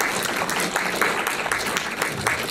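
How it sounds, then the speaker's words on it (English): Audience applause at a movie premiere in Boston, steady dense clapping throughout with a few louder individual claps, loud and close. "Big round of applause for Kyle Gage, Dan Leach, Keith Sadik, Nina"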